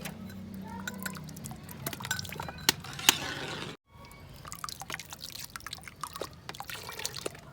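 Liquid poured into a pan while making kalakand, close trickling and dripping with small splashes and scattered clinks, a brief pause midway, then more dribbling.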